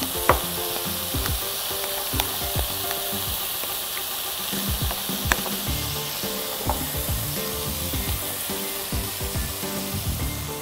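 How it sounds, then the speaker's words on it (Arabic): Potatoes fry in a pan with a steady, close sizzle, punctuated by scattered clicks and scrapes of stirring. "ننزل بقى تاني بالبطاطس لغاية ما احس انها اخدت الايه"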